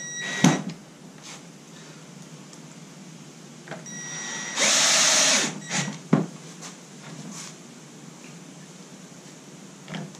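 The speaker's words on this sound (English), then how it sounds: "what we're really doing here is just screwing this together to hold the cat door together" A power drill drives screws to hold a cat door together in a window installation, giving one steady whirring burst of about a second and a half between scattered knocks and handling clatter.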